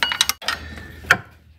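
Hand ratchet snugging down water pump bolts on a Ford Focus, a few quick clicking bursts of the pawl, close and crisp, with no talk.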